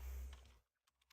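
Keys on a computer keyboard click a few times, faint and close, after a muffled low rumble fades out, while Python code is typed.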